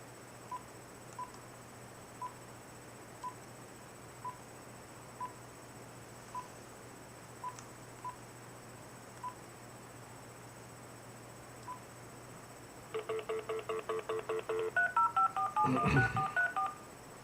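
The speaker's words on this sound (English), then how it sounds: "I'm gonna dial again." Telephone keypad tones from someone redialing a Verizon or bank number: a rapid run of about a dozen touch-tone beeps near the end, preceded by faint periodic clicks, with no talking.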